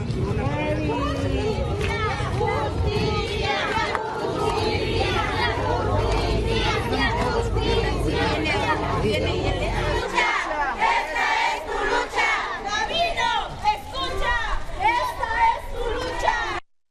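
A crowd of about 500 protesters in Morelos demands justice from the prosecutor's office over the killing of two children, a loud mass of shouting and chanting voices that drops slightly midway and continues with overlapping cries and chatter.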